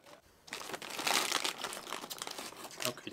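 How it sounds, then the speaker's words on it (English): Loud plastic crinkling from a bag of Indian chips being squeezed and handled up close, starting after a brief quiet moment and then continuing as a thick, steady crackle. "It's a very loud packaging."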